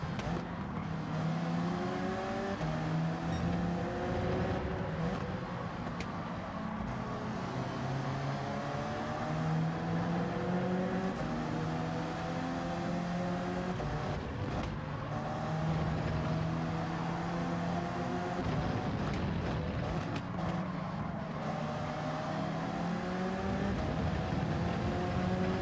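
Race car in Gran Turismo 7 driven at half throttle, engine note rising and falling in repeated sweeping gear-change cycles, steady and moderately loud with no pauses.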